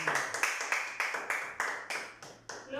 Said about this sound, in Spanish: Dar un aplauso al Señor y alabarle por esto.